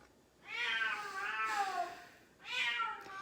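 A cat meows twice, close by: a long, wavering cry followed after a short pause by a second, shorter one.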